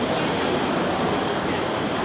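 A Tokyo subway train arriving at Shibuya gives a loud, steady rumble with broadband roar throughout, and no voices on top.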